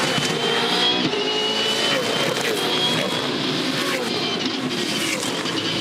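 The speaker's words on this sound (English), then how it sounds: "Paul on the rev limiter in fourth gear on the run up there to this left-hander." Supercar V8 race car engine held on the rev limiter in fourth gear at the Gold Coast 600 street circuit, a dense, continuous high-pitched roar with a steady buzzing whine throughout, loud and unbroken.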